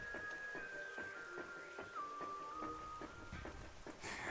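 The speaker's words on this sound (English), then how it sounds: "Oh, it is raining." Steady rain falls in the video game Metroid Prime, a constant wash of patter behind game music tones and soft electronic blips, with a brighter burst of noise right at the end.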